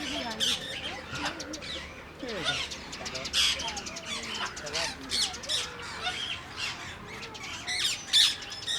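Parrots at Central Zoo in Kathmandu, Nepal, squawk and screech in a dense, continuous chorus of harsh calls, loud and nearby, while someone talks intermittently beneath them.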